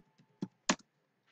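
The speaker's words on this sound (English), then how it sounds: "You just type in invoice." A few quick keystrokes on a computer keyboard while entering text, sharp close clicks spaced irregularly in a quiet room.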